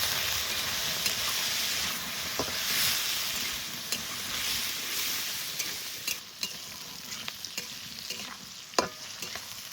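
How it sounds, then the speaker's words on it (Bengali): Okra sizzles steadily in hot oil with a continuous hiss, punctuated by occasional crackles and the scrape of stirring. "ভেন্ডির মধ্যে অল্প লবণ দিয়ে দেবো আর একটু হলুদ, ভালো করে ভেজে নেব।"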